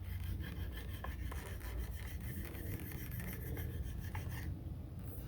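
A piece of horn rubbed repeatedly over the surface of a yew wood staff, giving a steady, close, raspy scraping that runs continuously without pause.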